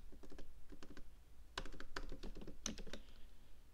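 Typing on a computer keyboard: a steady run of quick, crisp key clicks with a few louder, sharper strikes, close and clear with no voices.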